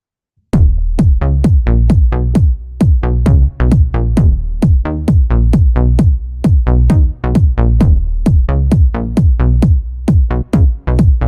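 A punchy kick drum thumps in a steady, driving pattern with a deep bass line underneath, loud and continuous with no voices.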